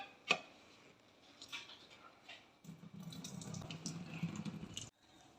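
Cold water is poured from above into hot cooked ada for palada payasam, a steady splashing stream of about two seconds that stops abruptly, after a few light clinks and taps.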